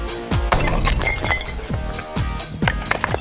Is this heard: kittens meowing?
no